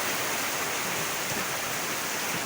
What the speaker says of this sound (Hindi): ये मूसलाधार बारिश, चेहरा पूंजी हो चुका है